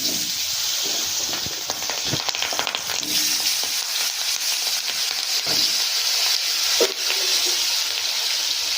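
Cut potatoes fry in hot oil with cumin and bay leaf, a bright continuous sizzle broken by scraping stirs and a few sharp clatters of the spoon against the pan, close up and without talking.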